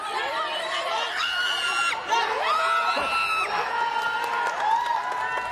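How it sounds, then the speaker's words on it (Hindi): Arm wrestling players in a Pro Panja League match scream and whoop with a cheering crowd, loud overlapping shouts and yells rising in bursts of celebration. "चीख सुनिए प्लेयर्स की,"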